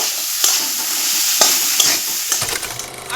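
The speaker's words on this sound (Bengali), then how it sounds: "এখন নাড়াচাড়া করে এই সুপটা আমি বানিয়ে নেব" A spoon stirs hand-mashed potatoes into a corn soup in a pot. Loud, close scraping and swishing come with a few sharp knocks and a frying hiss underneath, and no one speaks.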